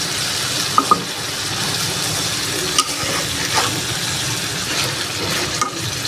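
Beef is braised and stir-fried in a pan with a steady, fairly loud sizzle, punctuated by a few light taps and scrapes of a utensil.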